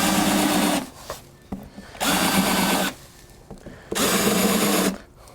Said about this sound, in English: So now I'm going to countersink those.